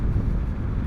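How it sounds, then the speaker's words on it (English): Steady, loud wind roar buffeting the microphone while riding a 2020 Yamaha SMAX scooter at around 30 mph or faster, with no talk over it. "I can hear the wind more than I can hear the engine."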